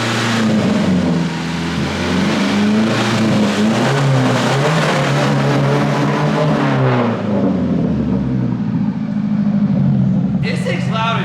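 A Nissan 240SX with a straight-piped KA engine roars loudly at close range, its revs holding high and then dropping before the sound cuts off, with people talking over it.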